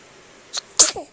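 A pet lets out one sharp, close sneeze right after a short snuffling breath, in an otherwise quiet room.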